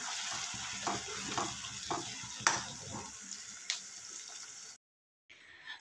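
Onion and tomato frying in a pan for a mushroom gravy, a soft steady sizzle with intermittent stirring scrapes, fairly faint, cutting out briefly near the end.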